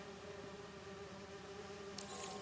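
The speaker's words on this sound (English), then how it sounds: "Harry says you're working with bees." Bees buzz in a lab in the Spider-Man 2 video game, a steady faint drone that holds evenly throughout with a brief brighter flicker near the end.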